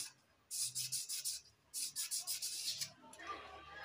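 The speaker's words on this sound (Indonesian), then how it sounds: "mangkoknya kita amplas sedikit ya." Rapid rhythmic scratching of sandpaper rubbing against a metal CVT clutch bowl from a Honda Scoopy, in two quick bursts of strokes followed by a softer scrape.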